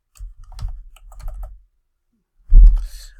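Fingers type on a computer keyboard in two quick bursts of close, crisp key clicks, then a short pause before a louder final thump of keys.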